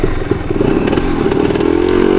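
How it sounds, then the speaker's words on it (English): A 1975 Yamaha DT250 motorcycle engine runs loudly up close on a trail ride, its steady drone broken by uneven sputtering pops and rattles from jetting trouble. "There's a little bit of sputtering."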